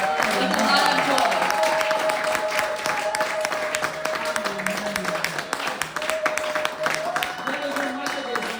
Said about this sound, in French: Clap for the Lord with a lot of joy.